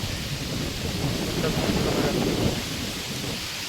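Steady rain falls outdoors as a dense, even wash of hiss that holds level throughout, with a low rumble underneath suggesting distant thunder. No voices are heard.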